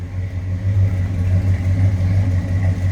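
A 1966 Ford Fairlane 500 GT convertible with a 390 V8 idles in a deep, steady rumble, heard close from behind the car, with a low pulsing exhaust note that stays even throughout.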